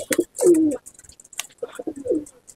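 Malwai pigeons in a Punjabi-style loft give a few close, throaty coos, one long rolling coo standing out amid brief flutters and softer calls.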